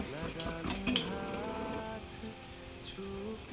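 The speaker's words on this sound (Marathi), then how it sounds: "तेलामध्ये असा पाववडा सोडून घ्यायचा आणि वरतून त्याच्यावर असं तेल टाकीत राहायचं." Vada pav fritters sizzle in a pan of hot oil while oil is ladled over them, a steady close frying hiss with light clinks of a utensil against the pan.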